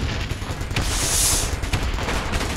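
Automated gun turret in the space-building game Space Engineers firing a steady, dense stream of rapid shots, loud and continuous with no talk over it.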